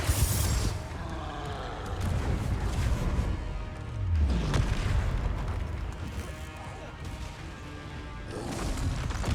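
In the Hogwarts Legacy video game, fiery Confringo spell blasts go off in repeated booming bursts amid continuous combat noise, loud and close throughout.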